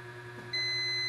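A multimeter continuity buzzer sounds a steady high-pitched electronic beep, starting partway through and holding continuously to the end, loud and close over a faint background hum, while testing a shorted IC on a laptop board.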